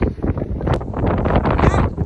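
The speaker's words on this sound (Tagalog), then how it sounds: "sa lakas ng hangin na nagliliparan na" Strong wind buffeting the microphone with a rough, gusty roar, steady and close throughout, blowing sand around on a beach at low tide.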